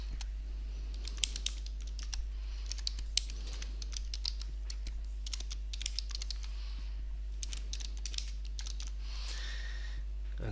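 Rapid keystrokes on a computer keyboard come in uneven bursts of clicks, close and fairly quiet over a low steady hum, with brief pauses between runs of typing.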